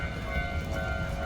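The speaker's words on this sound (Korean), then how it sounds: "기차 계속 이렇게 지나다니네요" Train rolling past in a Japanese neighborhood, a steady loud rumble with a sustained tonal hum and rattle of cars carrying on throughout, close by with no talk over it.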